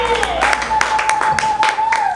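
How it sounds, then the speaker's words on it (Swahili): Congregation clapping together at a church service, rhythmic bursts of applause under a sustained tone, with voices mixed in throughout. "Pigia Bwana makofi zaidi."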